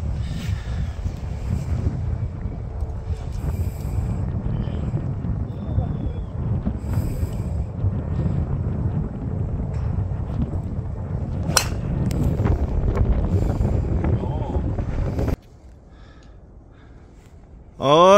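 Wind gusting across a golf course in Daegu, a loud buffeting rumble against the microphone that persists for most of the span, then cuts to a quieter stretch before a brief burst at the end.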